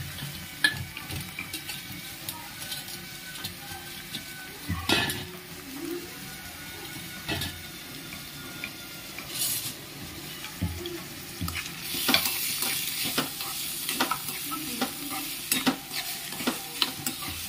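Onion, tomato, green chillies and garlic softening in oil over a low flame, heard as a quiet, steady sizzle with scattered scrapes and clinks of stirring, no one talking.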